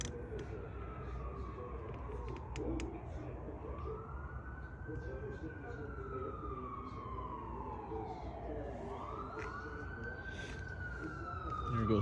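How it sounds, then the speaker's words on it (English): Emergency vehicle sirens wail past in long rising and falling sweeps, steady and fairly loud over low traffic rumble through a continuous outdoor background, with no voices. "There goes sirens all day, all night, never fails."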